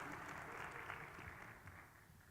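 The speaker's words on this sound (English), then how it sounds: "Let's give him a round of applause for his help" Applause from a keynote audience at a conference talk, a steady wash of clapping that fades slightly toward the end.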